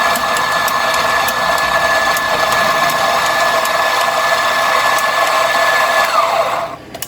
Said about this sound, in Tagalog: Dosing part is we do the grinding.